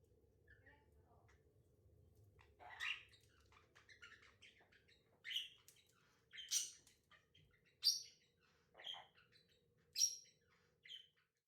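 Pet birds chirp and squawk in a bird room, sharp, loud calls repeating every second or so against a quiet background with a faint low hum.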